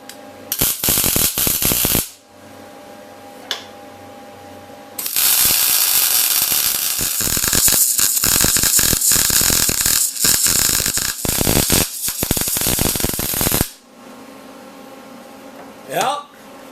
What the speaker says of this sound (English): We'll set it here, tack it in place, and then weld it off.